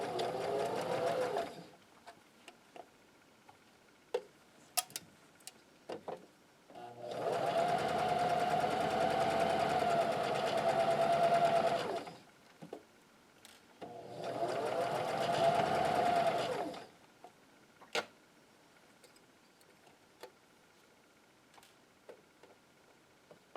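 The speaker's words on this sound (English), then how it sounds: "we are going to slide this back under our machine and sew around, not forgetting our back stitch." A domestic sewing machine stitches around a maxi dress in three sustained whirring runs, the middle one longest, separated by quiet pauses broken by small clicks and taps.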